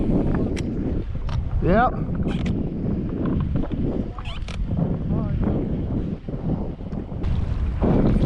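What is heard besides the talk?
wind blowing on a lake from a boat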